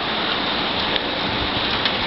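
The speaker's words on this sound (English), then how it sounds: "It's raining." Steady rain pours down around a 2003 Classic Monarch three-horse bumper-pull trailer parked outdoors, a dense continuous hiss of drops with a few slightly louder splats and no voices.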